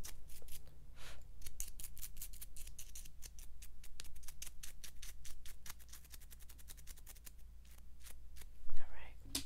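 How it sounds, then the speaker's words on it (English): New hair scissors snip close up in a quick, steady run of crisp metallic cuts during a haircut, with soft whispered talk underneath. "So I got some scissors here."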